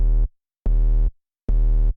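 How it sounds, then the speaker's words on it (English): Serum 2 synthesizer triangle-wave sub bass played without a low-pass filter: three sustained, deep buzzing tones with bright upper harmonics, each held about half a second and separated by short silences, loud and clean. "It's just a plain Serum 2 triangle wave."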